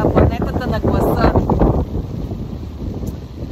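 Strong wind buffets the microphone in heavy, roaring gusts, loudest at the start and easing into a steadier rush.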